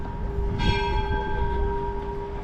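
Church bell chiming over a little street in Podgorica, one clear struck tone ringing out and sustaining with a long shimmering decay, loud and near above faint street ambience.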